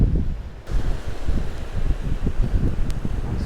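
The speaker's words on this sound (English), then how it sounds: "It's quite windy as well today." Wind buffets the microphone in low, rumbling gusts, with a faint rustle underneath and no voices.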